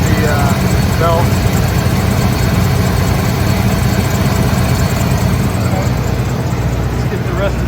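The engine of an old Ford Gulf Stream Ultra RV runs at a steady, loud idle, with a rusty belt adding to the constant rumble. Someone talks over the running engine.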